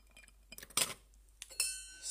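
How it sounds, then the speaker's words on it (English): Ice cubes dropped into a glass for an aperitivo, a few separate sharp clinks and rattles, close and clear, with quiet pauses between them. "Ice cubes,"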